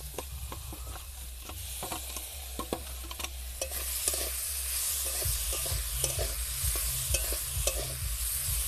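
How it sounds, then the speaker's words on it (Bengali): Hand-mixed dal being stirred in a wok with oil already in it, giving a steady run of scraping, clicking utensil strokes over a low continuous sizzle, close and alone. "এক মিনিট মতো এইভাবে একটু নাড়াচাড়া করে নেব।"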